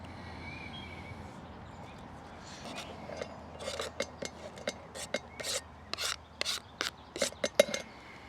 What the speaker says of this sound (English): You can chop this as fine as you like.